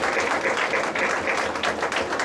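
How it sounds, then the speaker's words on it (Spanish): An audience at a breast cancer awareness event applauds for boxing council president Mauricio Sulaimán, a full, sustained burst of many hands clapping at steady loudness. "Les pido un aplauso a Mauricio por el trabajo que está haciendo."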